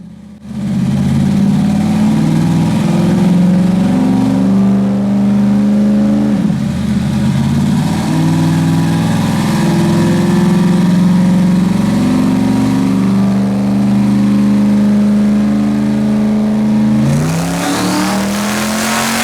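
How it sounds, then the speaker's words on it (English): Boosted twin-turbo car engine running on pump ethanol at around 8 pounds of boost with the wastegate, a loud sustained engine drone that dips and swells near the middle, then shifts sharply near the end. "Please enjoy this wastegate hit on, 8 pounds of boost or so"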